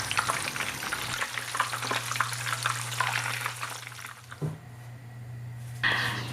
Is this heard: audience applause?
no